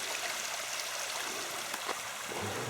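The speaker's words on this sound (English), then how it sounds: "Beautiful little waterfall there, trickling down out of the forest." Small waterfall trickling down out of a forest stream on a spring hike in Japan, a steady, soft broadband wash of falling water that stays even throughout, with no voices.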